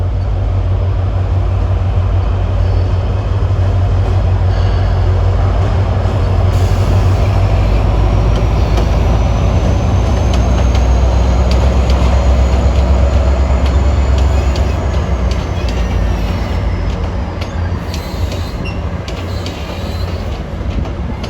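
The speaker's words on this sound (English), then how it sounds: "this is train 852 at Camden Station in Baltimore on the old" Train 852 rumbling through Camden Station in Baltimore on the old B&O line, a loud continuous roar of rolling wagons with faint clickety-clack and a rising high squeal midway.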